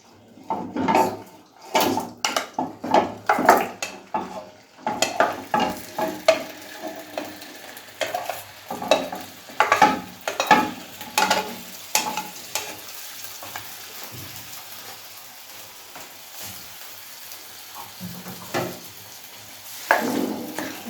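Mutton going into half a cup of ghee in a wok on a low flame brings bursts of spattering sizzle and clattering stirring, thick at first and then settling into a softer, steadier fry with occasional knocks.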